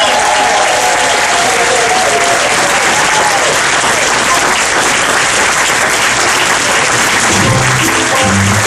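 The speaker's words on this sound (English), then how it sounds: "Let's give him a big round of applause." A crowd at an evening show gives a singer a big round of applause, loud and continuous throughout, with a faint tonal music line early on and some cheering mixed into the clapping.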